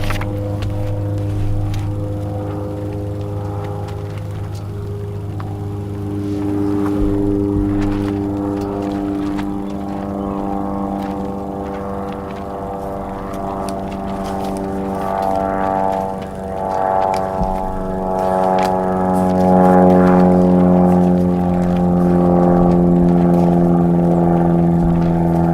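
An aerobatic plane flies an advanced-category selection sequence. Its propeller engine drones steadily, rising and falling in pitch, and swells louder near the end as it manoeuvres overhead.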